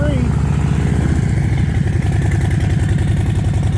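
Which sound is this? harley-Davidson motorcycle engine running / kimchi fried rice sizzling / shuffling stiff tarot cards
harley-Davidson motorcycle engine running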